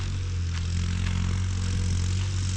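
A tractor engine drones steadily while plowing a field, a close, continuous low rumble with no pauses and no talking.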